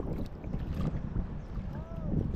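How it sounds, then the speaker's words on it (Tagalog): A boat arrives with a low, steady engine rumble, fairly quiet and mixed with wind buffeting the microphone. "Dumating na bangka mga kaidol."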